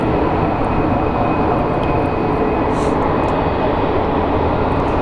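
A UPS Boeing cargo plane arriving at Phoenix Sky Harbor airport, a steady, loud, broad engine roar with rushing noise that holds throughout.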